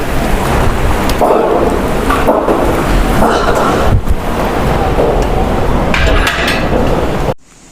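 A loud, steady roar of storm wind in Punjab with rushing rain-like noise and occasional clattering of tin roof sheets, cutting off abruptly at the end.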